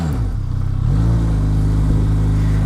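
A Benelli TRK 502 motorcycle engine idles with a steady, close-up low rumble on a slow test ride, its pitch rising slightly and then holding an even drone, with no talking.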